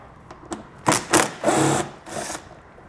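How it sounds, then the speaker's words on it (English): A 10mm socket tool removes a hex bolt while a Curt trailer hitch receiver is fitted to a 2021 Toyota C-HR. Several short, close whirring bursts come in quick succession, then one longer run. "we're going to come back with a 10mm socket, and we're going to remove that hex bolt we pointed out"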